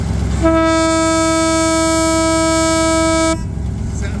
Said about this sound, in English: Clip of the air horn right now.